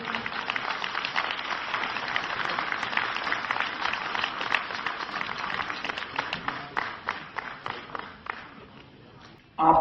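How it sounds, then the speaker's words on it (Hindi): Audience applause at an association anniversary ceremony, a steady wash of many hands clapping that holds for several seconds and then thins into scattered claps before fading, with voices murmuring beneath. "इसकी जोरदार तालियों से कदम होनी।"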